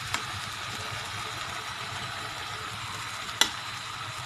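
Pork with potatoes and taro frying in a pan, a steady close sizzle running throughout with two brief sharp clinks, no talking.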